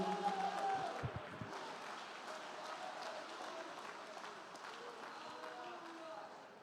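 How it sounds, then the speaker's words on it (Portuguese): A church congregation claps in a sustained wash of applause that starts fuller and settles into a steady, moderately distant patter with a voice faintly present. "Aplauda o Senhor"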